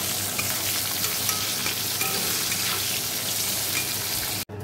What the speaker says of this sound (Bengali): এই যে পাবদা মাছটা ভাজবো।